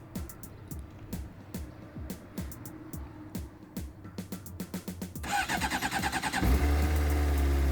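Motorcycle engine being started in spring after sitting unridden since the fall: a series of sharp starter clicks and cranking bursts, then the engine catches and settles into a loud, close idle.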